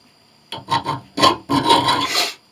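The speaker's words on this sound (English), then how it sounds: "thought I would throw this little chainsaw file on both of them so you could hear the difference" A small chainsaw file rasps across knife steel in a few close, gritty strokes, starting with short scrapes and ending in a longer drawn pass.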